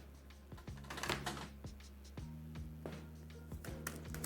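A deck of game cards is shuffled by hand during a solo tabletop game, giving quick, close clacks and riffling taps in an irregular rhythm over a few seconds, with a low steady hum beneath.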